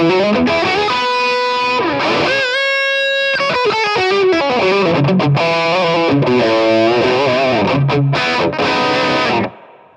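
Electric guitar driven through a high-gain, Marshall-style distortion pedal, playing loud, saturated chords and single-note lines that ring continuously for several seconds before cutting off, with no talking.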